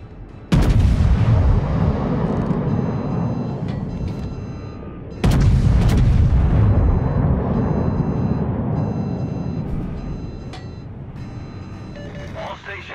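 Two massive main-battery salvos from the battleship Montana in World of Warships, each a deep booming blast with a long rolling decay, spaced about five seconds apart, with brief radio-style voice callouts in the background.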